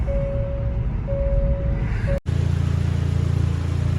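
A 2019 Hyundai Veloster with a freshly finished engine drives down the road, giving a steady low engine and road rumble that continues without letup after a brief dropout. A thin steady whine runs over the rumble at first.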